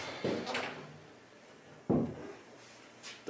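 A wooden closet door being turned over for painting, two separate hollow thumps and scrapes about a second and a half apart, close and moderately loud against a quiet room.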